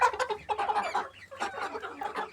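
Tiger chickens cluck close by in a steady, busy run of short clucks and calls, with no voices.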